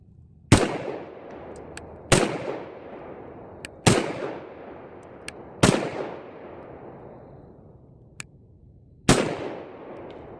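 A CZ P-09 Tactical pistol fires five loud, sharp shots at an outdoor range, spaced about one to three seconds apart, each with a ringing echo that fades away.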